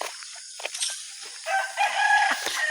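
Rooster crowing close by in a rural yard, a loud drawn-out call with clucking fowl around it and no talk.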